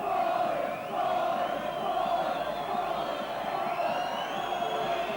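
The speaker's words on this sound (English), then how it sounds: "He really is getting the raspberry from a crowd here" Rugby league crowd at a St Helens versus New Zealand match jeers and chants at a kicker lining up his shot, a continuous roaring, drawn-out chant from a large, distant stand.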